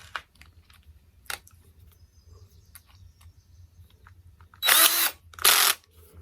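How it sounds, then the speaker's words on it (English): A power drill drives screws into wood in a workshop, heard as two short, loud bursts close together near the end, after mostly quiet stretches with faint knocks. "Now I'm going to put these screws in there, and they're going to shoot them right in there where they belong."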